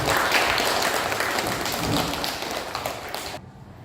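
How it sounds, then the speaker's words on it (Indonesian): Audience applause closes a discussion session at a learning-community meeting of an Indonesian junior high school, a dense burst of many hands clapping steadily for over three seconds before cutting off abruptly. "kita akhiri sesi diskusi ini dengan tepuk tangan yang terima kasih"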